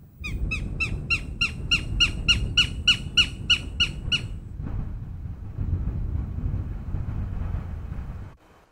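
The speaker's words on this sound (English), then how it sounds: "We are looking for a Goshawk, a proud bird of prey with a wide wingspan and a long tail." A goshawk, a bird of prey, calls in a loud rapid series of sharp repeated squawks for about four seconds over a rumbling background, and then the calls stop while the low rumble carries on.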